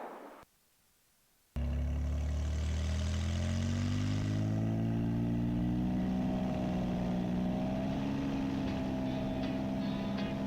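A Cirrus SR-22 piston engine roars up to full power for the takeoff roll, a loud steady drone with rising pitch after a brief quiet start.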